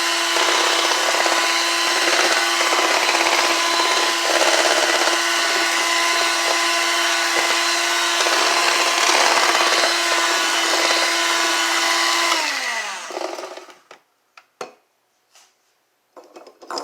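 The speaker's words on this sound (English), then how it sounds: "I usually mix mine with my hand mixer" An electric hand mixer runs steadily through sour cream pound cake batter, giving a loud, continuous whirring drone for about twelve seconds. It then winds down and stops, leaving a few soft knocks and clatters. No voices are heard.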